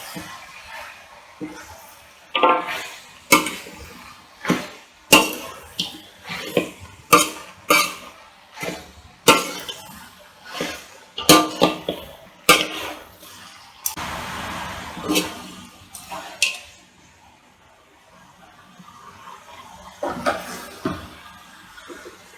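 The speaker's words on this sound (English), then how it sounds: "And now mix this well." Chettinad-style salted mutton fry being tossed and stirred in a pan after a sprinkle of water, giving a run of close, irregular scraping and clattering strokes that come in bursts with short pauses.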